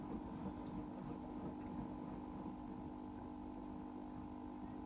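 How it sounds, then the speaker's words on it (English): An AEG Silent System washing machine running a 60 cotton wash, its drain pump giving off a steady low hum with a faint pulsing, continuous and fairly quiet throughout. "that pump still rattles and hums. It's not rattling, it's just the pulsing noise that those pumps make"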